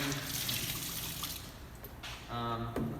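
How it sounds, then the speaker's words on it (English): Dirty clay-laden water pours and gurgles down a sink drain, a steady splashing wash that thins out partway, followed by a brief tonal squeak or faucet sound near the end. "This dirty water now can just go down the drain."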